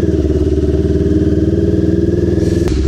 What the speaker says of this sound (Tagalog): Ay, ito na yung traffic.